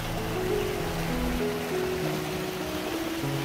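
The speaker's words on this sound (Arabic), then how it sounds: "صوت الأنهار." River water flowing steadily through a green valley, a constant broadband rush with low tonal hums mixed in, even and continuous throughout.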